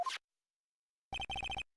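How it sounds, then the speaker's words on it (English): A short electronic phone ringtone plays in the game Phoenix Wright: Justice for All: a quick chirp, a pause, then a rapid series of bright repeated beeps. "what is with this stupid sounding ringtone?"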